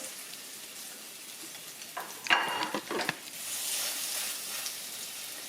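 Hamburger patties laid into hot grease in a pan, soft background hiss rising into a burst of sizzling and spatula clatter around the middle, then a steadier frying sizzle.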